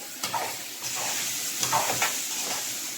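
Rice and vermicelli frying and being stirred in a pan at home, a steady close sizzle with occasional scraping stirs, no talk.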